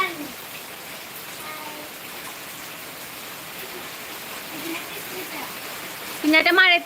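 Steady rain hisses throughout, a dense wash of falling water, with a voice breaking in briefly near the end.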